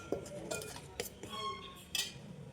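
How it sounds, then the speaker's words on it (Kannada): A spoon stirs and clinks against a bowl as salt and chilli powder are mixed, a few light scrapes and taps, close and fairly quiet. "ಇವಾಗ ಒಂದು ಸ್ವಲ್ಪ ಮಿಕ್ಸ್ ಮಾಡ್ಕೊಳ್ಳೋಣ"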